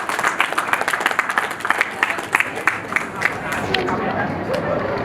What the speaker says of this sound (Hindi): तो एक बार जोरदार तालियां हो जाए मार्केटिंग टीम के लिए।